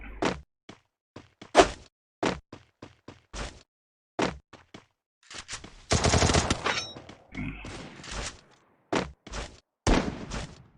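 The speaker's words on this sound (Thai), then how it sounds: "น้องท็อปเปอร์กำลังยิงครับ" Gunfire in the Free Fire battle royale game: sharp single shots scattered across the clip, with a burst of rapid automatic fire in the middle, loud and punchy with silence between.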